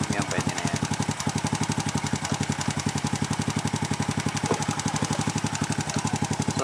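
A Honda XRM125 motorcycle engine idles steadily at around 2000 RPM while its carburetor is tuned, giving a close, continuous rapid thumping pulse with an even, unbroken rhythm.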